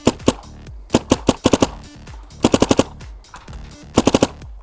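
An airsoft sniper rifle with a free-flow bolt fires sharp, snappy cracks. They come in quick clusters, loud and close, with no talking.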